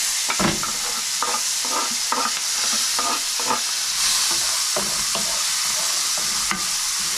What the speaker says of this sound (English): if it ain't sizzling, it ain't gonna hit